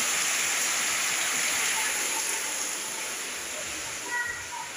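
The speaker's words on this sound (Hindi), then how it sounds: "बहुत तेज बारिश हो रही है, लग रहा है काली अंधियारी रात जो होता है।" Heavy rain pours at night outside a home during a Janmashtami celebration, making a loud, steady, unbroken wash of noise throughout, with no clear talking.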